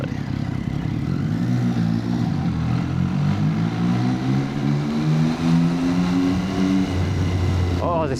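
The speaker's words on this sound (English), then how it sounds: "Oh, this bike sounds amazing now." A motorbike rides through Chiang Mai's old city, its engine note climbing and shifting through rising revs up close, with road and wind noise around it and a voice talking over it.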